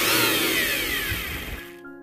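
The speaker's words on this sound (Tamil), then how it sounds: "இதை இப்போது நல்லா மையாக அரைச்சி எடுத்து வந்துடலாம்" A mixer grinder whirs loudly and steadily as it blends baby food to a smooth paste, its motor whine easing and then cutting off near the end.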